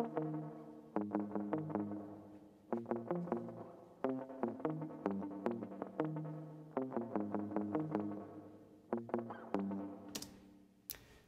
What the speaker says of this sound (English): adding in a lot more spring reverb